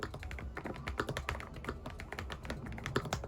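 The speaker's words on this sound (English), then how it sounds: "As you can hear, it's not the loudest keyboard I've used" Brisk typing on a Lofree mechanical keyboard, a rapid irregular stream of soft clicky keystrokes close up and fairly quiet.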